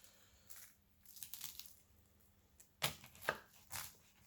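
A knife cuts down into a flaky pastry pie crust, giving several crisp crunching bursts spread over a few seconds, close and fairly quiet with no talk.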